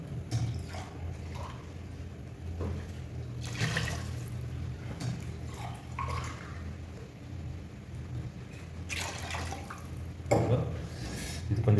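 Water pours from glasses into a pot of mutton biryani, a continuous splashing gush that swells into several heavier pours, heard close and on its own with no talking over it.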